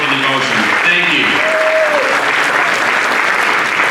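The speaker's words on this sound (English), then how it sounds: "Please join me to thank Chetan Patel by giving a big round of applause." A big round of audience applause at a Diwali cultural program in Panama City, Florida: steady, dense clapping throughout, with voices calling out briefly at the start.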